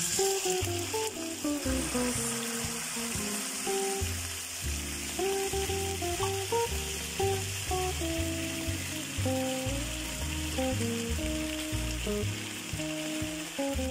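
Sardines with garlic and onion sizzle loudly and continuously in a frying pan, a dense close crackle throughout, with music playing underneath.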